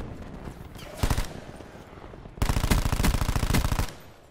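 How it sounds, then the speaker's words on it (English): An AK assault rifle fires in a video game: a short burst, a pause, then a longer sustained automatic stream of loud, close shots. "Oh yeah, I definitely like this AK better."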